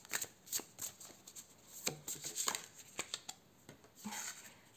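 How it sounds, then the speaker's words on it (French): Tarot cards handled and drawn from a deck, giving a run of soft, close papery flicks and slides in an irregular rhythm, quiet and unaccompanied by talk. "Je tire une autre carte et je vous dis tout de suite."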